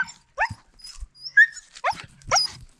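A dog close by gives short, excited yips and whiny barks in a quick irregular burst of several calls, heard alone in an outdoor trail setting.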